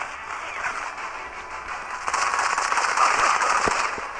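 Rapid automatic gunfire from the first-person shooter Modern Combat 5 rattles steadily at moderate level, growing slightly denser and louder partway through, with no talk over it.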